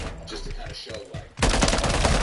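Talking gives way to a sudden loud burst of sustained gunfire in Call of Duty Modern Warfare III, the rapid shots filling the final second close and dense.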